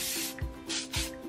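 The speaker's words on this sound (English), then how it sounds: "So now I'm just going to quickly, before I forget, spray my hair." Hairspray hisses from an aerosol can onto curled hair in short repeated bursts, three or four close spurts separated by brief pauses, with no speech.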